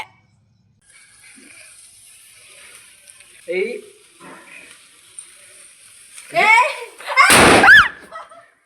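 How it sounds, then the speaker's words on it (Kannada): Sparse faint crackles give way to a few sharp pops, then a loud firecracker burst near the end, with scattered voices in the background. "ಪಟ್ಟಾಕಿ ಎಲ್ಲ ಡಮ್ ಡಮ್ ಅನ್ಸ್ತವನಲ್ಲಿ"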